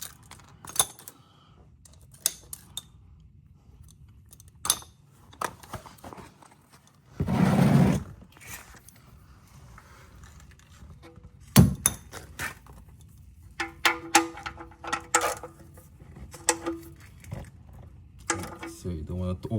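A socket wrench tightens the oil drain plug on a 2025 Kia Sorento. Close, sparse metallic clicks and clanks are heard, with a quicker run of ratcheting clicks near the end, over a quiet background.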